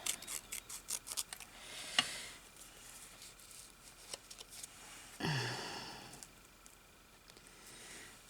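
Scissors snipping paper for a Gypsy-style craft journal, a string of faint close crisp snips early on, then a longer rustling cut of paper and a few quieter snips after.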